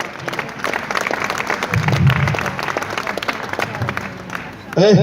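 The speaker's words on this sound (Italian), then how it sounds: "Facciamo un applauso ai precari che sono venuti a raccontare le loro storie." Applause from a crowd at an outdoor protest rally in Rome, steady clapping mixed with voices and crowd noise, with a louder burst near the end.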